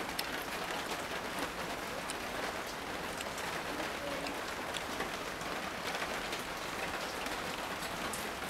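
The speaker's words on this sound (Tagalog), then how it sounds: "Sayang po kasi umuulan," Steady rain pours down, a dense continuous hiss of drops on a surface with no pauses, fairly close.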